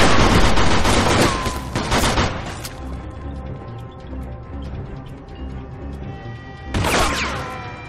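Rapid gunfire from the Mafia II video game, loud bursts of automatic shots crackling at the start, thinning to scattered rattling fire, then another heavy burst near the end, with no talk over it.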